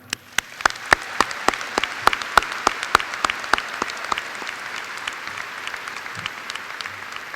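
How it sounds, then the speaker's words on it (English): Graduation audience at a high school ceremony applauds the school staff, a steady wash of clapping with sharp individual claps standing out near the front, holding for several seconds before thinning toward the end. "join me in a round of applause for our wonderful staff"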